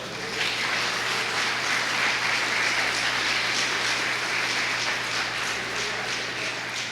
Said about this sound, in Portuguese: Quantos podem dar um amém e um aplauso ao Senhor neste lugar?